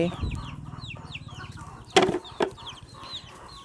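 Chickens being fed fresh azolla cluck softly in a steady stream, with a couple of sharper calls standing out midway, close by.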